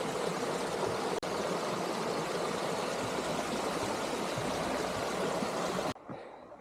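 A clear mountain stream on Madeira rushes steadily nearby while a water bottle is filled, a constant broadband water noise that cuts off abruptly near the end.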